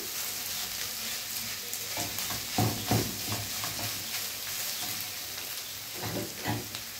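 Minced meat and onion frying together in a pan for lasagna, a continuous close sizzle broken by several scraping stirs of a utensil, with no talking.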